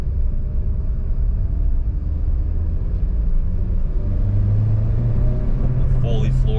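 A Chevrolet Sonic bought at auction, running rich with a fuel smell, has its engine floored to full throttle: a steady, loud low rumble with a rising drone toward the end.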